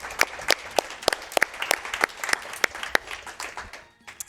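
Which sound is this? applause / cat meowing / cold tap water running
applause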